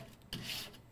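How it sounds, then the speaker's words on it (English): A 3-in-1 grill tool scrapes across the cooking grates of a Coyote pellet grill, giving one short, close, gritty rasp that starts with a soft knock. "grab a 3-in-1 grill tool and scrape the surface of your cooking grates"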